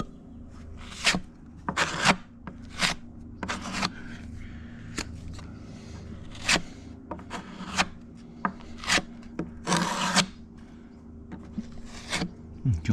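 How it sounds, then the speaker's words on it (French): Wood filler putty mixed with hardener is worked into screw holes on an oak board, producing repeated close rasping scrapes and rubs in irregular strokes, with someone speaking quietly between them. "Tu vois que j'ai rebouché les trous avec du Saint-Ofer."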